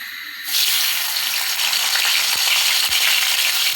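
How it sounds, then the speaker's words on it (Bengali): Onions are dropped into hot oil in a kadai wok while a pangas fish curry with cucumber is being made. A steady, loud hiss and sizzle bursts in after a brief quieter moment and continues unbroken. "পেঁয়াজটাকে ভালোভাবে ব্রাউন কালার করে ভেজে নেব"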